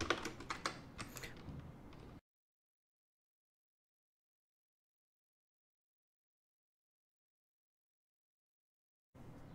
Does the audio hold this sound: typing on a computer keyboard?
yes